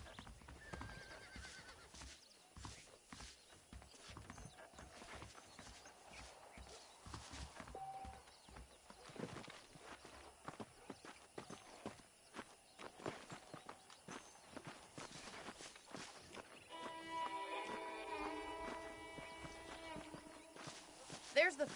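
Saddled horses in the Red Dead Redemption video game clip-clop along with steady hoofbeats, and one whinnies near the end, while voices talk over the trotting.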